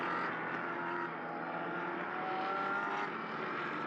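Endurance prototype racers circulating at Mugello in a four-hour race produce a continuous layered engine drone, fairly distant and even in level, with faint rising tonal whines from individual cars.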